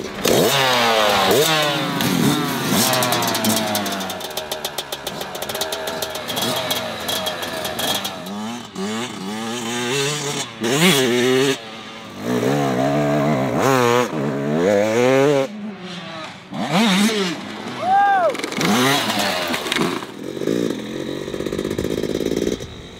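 Yamaha two-stroke off-road dirt bikes being ridden, a 2024 YZ250X and YZ125X: loud, buzzing engines revving and rising and falling in pitch throughout as the bikes accelerate and pass, up close.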